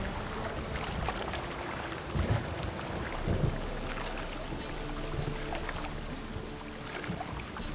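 Rain pours steadily in The Witcher 3 as a continuous wash of noise, with low thunder rumbles rolling in twice early on.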